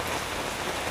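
Steady rain pours across a surface as a dense, even hiss that is close and loud and never breaks in the short burst.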